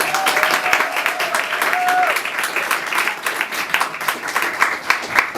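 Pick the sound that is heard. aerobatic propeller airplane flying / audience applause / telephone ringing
audience applause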